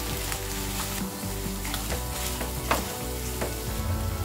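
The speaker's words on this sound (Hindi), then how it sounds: "अब इसको इस तरीके से हल्का हल्का मैश करते हुए भून लेंगे 2 मिनट लगभग।" Green pea paratha stuffing sizzles steadily in a pan while being lightly mashed and roasted, with soft scraping and stirring clicks over the continuous frying hiss.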